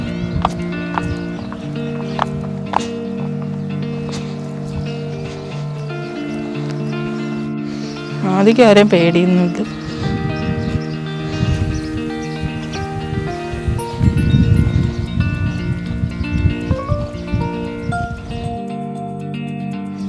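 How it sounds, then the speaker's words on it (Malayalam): Two horses out grazing at a wildlife park zoo, with a sharp whinny midway and snorting and shuffling around it, a person speaking briefly nearby. "ഇവിടെ 2 കുതിരയുണ്ട്, അതിൻ്റെ അടുത്ത് പോവാം."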